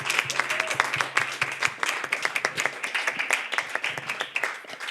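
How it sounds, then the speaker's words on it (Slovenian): A modest crowd at a slam poetry night in Ljubljana claps for the contestants, the individual hand claps distinct and fairly quiet, with a faint voice briefly audible early on. "jaz predlagam, da še en aplavz za vse tekmovalce današnjega večera"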